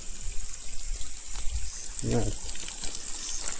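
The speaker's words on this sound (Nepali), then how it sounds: "यहाँ एउटा सानो धारा पनि छ है, धारा। चिसो पानी आउँदैछ।" A small stream of cold spring water trickles and flows steadily outdoors, with a short spoken word partway through.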